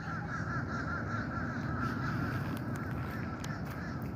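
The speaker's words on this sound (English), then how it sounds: "Is that because if you hear that racket long enough, you'll want to commit murder?" A flock of crows caws steadily and harshly throughout, a continuous racket of overlapping calls close by with no talk.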